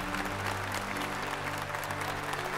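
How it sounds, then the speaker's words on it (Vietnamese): An audience at a children's psalm-singing idol contest in a Catholic parish gives a loud, continuous round of applause to congratulate the top 12 contestants, with a low hum beneath the clapping. "quý vị hãy dành một tràng vỗ tay thật lớn, thật nồng nhiệt để chúc mừng top 12 của chúng ta"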